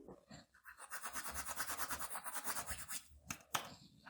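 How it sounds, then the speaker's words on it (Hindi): Cumin seeds rubbed between the palms make a soft, close, rhythmic rustling scratch in quick repeated strokes, faint and alone, ending with a brief sharper crackle. "जीरे को हम हल्का सा हाथों में मसल कर डालेंगे।"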